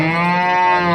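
A cow at the Chakan cattle market gives a single loud, sustained moo. It is rich and droning, and it fills the whole moment up close with no talk over it.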